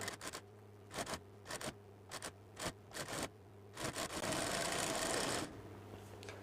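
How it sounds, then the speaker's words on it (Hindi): A sewing machine stitches piping onto blouse fabric in short bursts, then runs in one longer steady stretch, loud and close with no talking. "सभी जगह से मैंने 2 पॉइंट की दूरी पर सिलाई लगा दी है"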